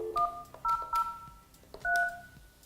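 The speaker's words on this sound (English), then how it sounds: "Place the second phone call." A Polycom desk phone dials a second call, giving a quick run of distinct DTMF keypad tones: short steady beeps in uneven groups, moderately loud and close, with quiet room background and no talking.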